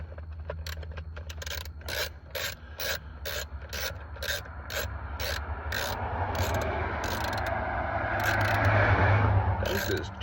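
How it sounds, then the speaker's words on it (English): A cheap ratchet wrench working on the steering column housing of a 2011–2013 Ford F-150, producing a rapid series of dry clicking ratchet strokes over a rasping, grinding mechanical rumble that grows slightly louder toward the end. "This cheap little wrench I just bought is already falling apart. It don't sound too hot."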